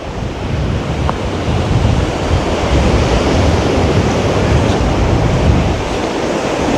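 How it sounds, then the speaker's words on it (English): Loud, steady roar of ocean surf breaking on the beach at Black River, Jamaica, after a hurricane, with heavy wind buffeting the microphone throughout and no voices. "I'm here on the beach, here in Black River."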